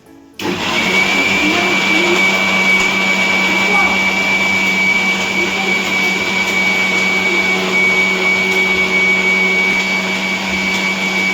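A kitchen mixer grinder (mixie) runs while mutton sambar is being made. It starts with a sudden jolt, then holds a loud, steady motor whine and grinding roar close by for several seconds.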